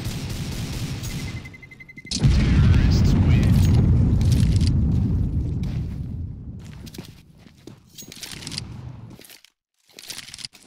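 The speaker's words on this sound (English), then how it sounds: "They will not stop the bomb now." A bomb goes off in a competitive shooter game, starting with a sudden loud boom that rumbles heavily for a few seconds and then tails off into scattered softer crunches and game noise.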